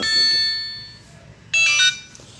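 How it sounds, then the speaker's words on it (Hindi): A telephone ringing for an incoming call, sounding as a bright electronic ringtone with sustained high tones, fading, then a louder second burst, close and alone. "एक मिनट, टेलीफोन आ रहा है"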